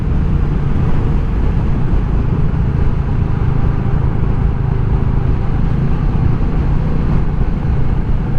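Steady, loud wind roar and rumble inside a Scorpion Covert FX helmet while riding a Royal Enfield Meteor 350 at 90 km/h, a dense, unbroken low-heavy wash with no talking.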